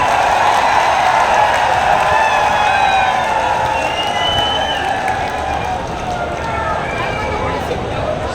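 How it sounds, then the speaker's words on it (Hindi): Loud applause and cheering from a big political rally crowd in Hisar, Haryana, a sustained roar of clapping and shouting that fills the space evenly, with chanting voices riding over it. "जोरदार तालियों के साथ स्वागत।"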